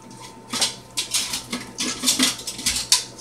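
A spatula scraping down a mixing bowl of chocolate rum cake batter, a series of close, irregular scrapes and light clinks against the bowl, with no talking.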